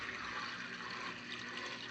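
An aquarium filter pumps water in a steady, soft, continuous rush and trickle, with no voices over the flow.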